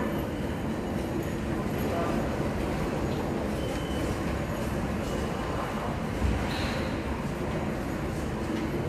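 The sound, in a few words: train at Gare du Nord station, Paris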